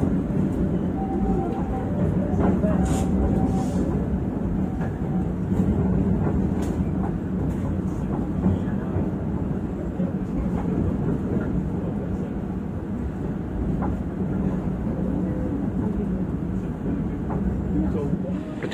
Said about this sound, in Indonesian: Perjalanan kereta api Jayabaya telah sampai di stasiun Lawang dan juga sebagai stasiun pemberhentian terakhir kereta api Jayabaya.